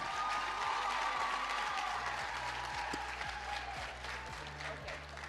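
An audience at a national ICT summit applauds a young future member of Parliament, moderately loud clapping spread across the whole stretch over a steady low hum, with a voice faintly present beneath.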